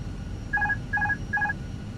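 Autopilot disconnect warning of a Fenix A320 airliner in Microsoft Flight Simulator: three short, evenly spaced electronic chimes over a low steady engine hum.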